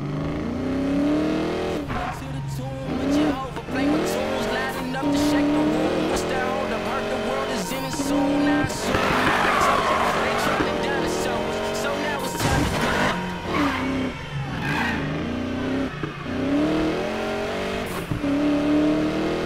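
Race cars in Need for Speed Payback roar and rev continuously, with tires squealing and skidding through corners and cars rushing past, loud and close, with a voice speaking over the engines at times.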